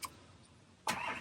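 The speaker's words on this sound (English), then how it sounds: "you've got to start the engine" A VW California Ocean pop-up campervan engine starts after a quiet pause, a sudden cranking catch that settles into a steady, fairly close running sound.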